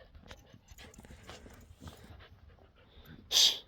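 Close, quick breathy panting from a dog with soft scuffling, ending in a brief sharp high whine.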